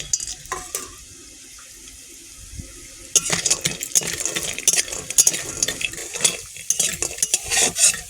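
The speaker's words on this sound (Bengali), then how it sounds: "বড়িগুলো ভেজে নেবো।" Bori lentil dumplings fry in a pan for a vegetable dish. A steady low hiss comes first, then busier stirring with scraping and clinking of a utensil against the pan over continuous sizzling. No one speaks.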